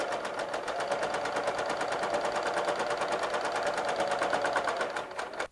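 A sewing machine stitches quilt binding in a steady, rapid run of needle strokes, close and even, alone with no voices, halting abruptly just before the end.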